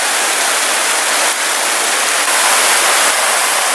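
Water of Çaylak creek flows close by in a loud, continuous rushing hiss, broken by a couple of faint knocks, with no talking.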